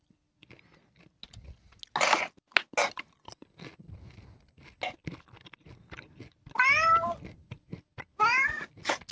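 Close by, a cat lets out two or three distinct meows, spaced a few seconds apart, among scattered clicks, crunches and small handling noises in an otherwise quiet room.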